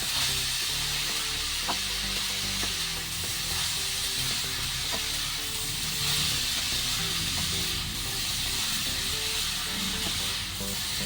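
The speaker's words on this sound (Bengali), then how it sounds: "এই দেখুন, এখানে আমি 1 মিনিট মতো মিডিয়াম আঁচে গাজরটাকে ভেজে নিয়েছি।" Grated carrots fry in a pan over medium heat, giving a steady, close sizzle and hiss throughout with faint stirring scrapes, no voices.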